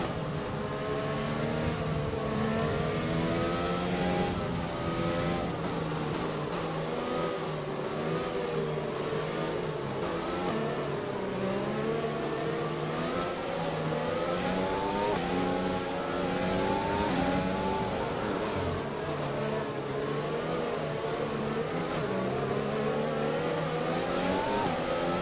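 F1 race cars in a racing video game accelerate away after a safety car period at Silverstone, with loud, continuous engines revving and shifting up and down through the gears, several cars overlapping, and no speech.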